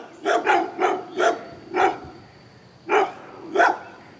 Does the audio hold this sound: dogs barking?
yes